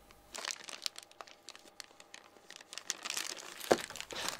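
A small plastic bag of assorted metal mounting clips for an LED light fixture is handled, giving steady soft crinkling and rustling up close, with one sharper crackle near the end.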